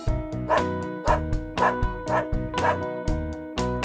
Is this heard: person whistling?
no